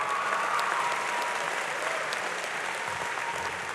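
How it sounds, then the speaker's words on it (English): Sustained, dense applause from a large audience at the Lamar High School class of 2013 graduation ceremony, a steady even roar of clapping with no gaps, holding loud and unbroken the whole time. "You can applaud."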